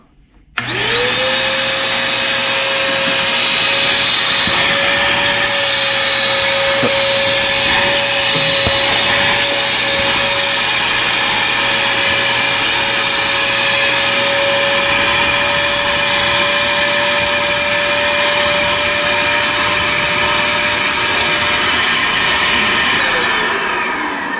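A Craftsman vacuum cleaner runs on a carpeted floor, a loud, steady motor whine with a high pitched tone that holds nearly unchanged for about twenty-four seconds, with no talking.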